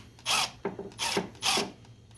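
A screwdriver with a number 2 Phillips bit loosens a carburetor clamp on a 2007 Kawasaki Prairie 360 4x4 ATV, giving three or four short close bursts of metallic whirring and scraping separated by brief pauses.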